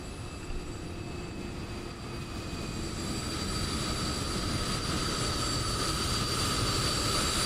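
An Emirates cargo jet in Microsoft Flight Simulator 2020 at Hong Kong gives a steady, loud engine roar with a constant whine on top, holding even for the whole stretch with no talk.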